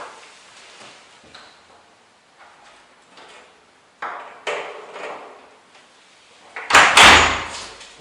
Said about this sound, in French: Je vais ouvrir la porte et bloquer le morceau de bois en haut